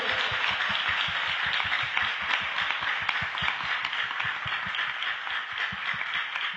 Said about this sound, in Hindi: और जोरदार ताली यीशु मसीह के लिए।